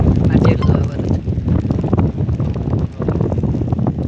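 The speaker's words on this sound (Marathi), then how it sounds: "वारा किती येतात" Strong monsoon wind buffets the microphone on a Konkan hillside trail, a steady loud roar with gusty dips throughout, while voices talk over it.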